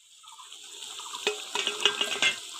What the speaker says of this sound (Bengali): ভেজে রাখা মাছগুলো এবার দিয়ে দেবো।